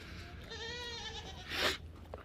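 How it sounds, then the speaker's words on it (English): A goat lets out a single wavering bleat at close range, followed by a short rustle, with no talking. "the chickens and goats are happy to be out"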